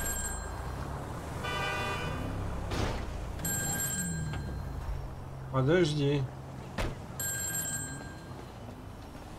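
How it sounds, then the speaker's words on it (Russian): Telephone ringing inside Grand Theft Auto V gameplay, repeated bursts of bright electronic ring tones recurring several times amid street noise, with a brief car horn and someone talking over it. "Телефон."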